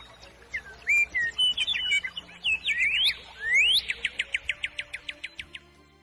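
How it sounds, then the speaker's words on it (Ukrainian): A nightingale sings alone in a clear, close phrase of varied whistles and rising sweeps that ends in a fast series of repeated chirps, with no voices over it. "це соловей."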